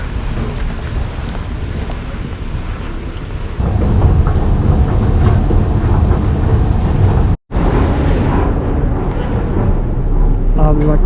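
A metro train rides along with a loud, continuous rumble and rattle from inside the carriage, growing heavier partway through, with a brief drop near the end and some background voices.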